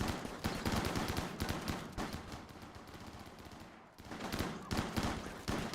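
Rapid bursts of gunfire from the RimWorld video game, dense volleys of repeated shots filling the clip, pausing briefly near the end before firing resumes loudly.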